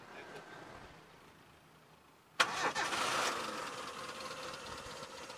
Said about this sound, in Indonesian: Sekarang kita coba starter, kita dengerin suaranya.